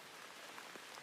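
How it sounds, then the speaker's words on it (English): Rain patters steadily against window glass, a soft continuous hiss with faint scattered drops, gentle and even with no voices. "Outside, the rain continued its patient work against the window glass."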